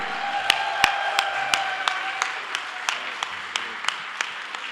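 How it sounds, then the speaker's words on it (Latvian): Audience at a volunteer award ceremony breaking into applause, a dense wash of clapping with sharp, regularly spaced louder claps standing out, while a few voices murmur underneath. "Es gribētu visi skaļs aplausus"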